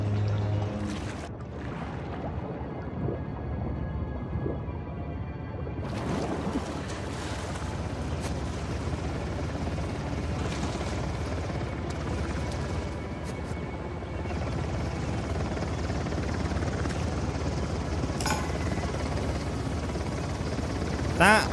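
A helicopter in Uncharted: The Lost Legacy drones steadily in the background of game action, a continuous low rotor rumble mixed with water, gunfire-like bursts and environmental noise throughout.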